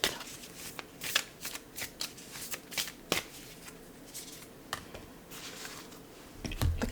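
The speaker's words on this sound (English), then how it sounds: "I will now draw a Moonology card" A Moonology oracle card deck is shuffled and a card drawn during a quiet ASMR pick-a-card tarot reading. Soft, close papery riffles and taps come in irregular bursts, ending with a fuller rustle and no talking.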